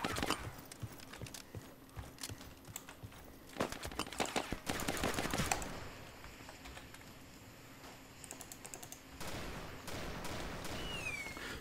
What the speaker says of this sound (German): Ich schieß gerade auf einen Zombie